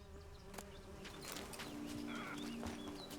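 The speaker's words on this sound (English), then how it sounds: "Just bees. They don't want me taking their stuff." Bees buzz around in The Witcher 3, a close, continuous insect drone with scattered game clicks and faint bird calls in the background, no speech.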